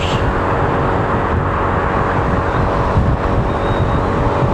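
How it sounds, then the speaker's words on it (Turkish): Steady, loud wind rush buffets the microphone while riding a Honda Forza 250 scooter on the road, with a low engine and road drone beneath and no talking. "anda yine rüzgar var."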